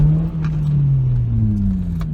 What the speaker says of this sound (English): So obviously I like to give it a few revs, just to let people know I'm there.